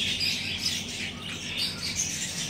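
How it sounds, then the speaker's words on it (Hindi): Asian koel calling outdoors, heard as a steady stream of bright, chirping bird calls close by and moderately loud for the whole stretch, with no talking. "कोयल भी दिखा दी, दिख गई हो तो, वरना तो आवाज़ से सुन ही लिए"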